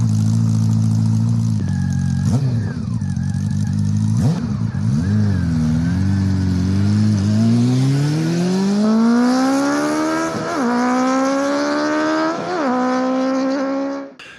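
A quarter-litre four-cylinder motorcycle with Hyper VTEC revs from a low idle, blipping sharply a few times before climbing in a long, smooth, rising howl through the revs, loud and close with no voices.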